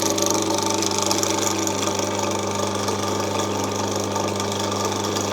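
A new mill idles at its slowest speed, a steady mid-pitched motor hum with an even drone and faint whirring overtones, close and constant with no knocking.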